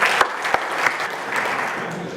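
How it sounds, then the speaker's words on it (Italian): An audience at a 2015 district congress applauds their district governor, a dense burst of clapping with a few sharp nearby claps standing out, steady and moderately loud throughout. "vi prego, applaudite il vostro governatore"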